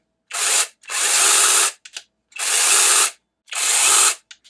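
Cordless power tool on a DeWalt battery whirring in four short bursts of roughly half a second to a second each, with brief clicks between triggers, loud and close with no talk.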